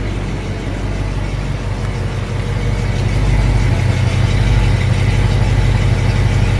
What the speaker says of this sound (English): Get the exhaust quieted down, you start hearing all these engine noises that you didn't hear before.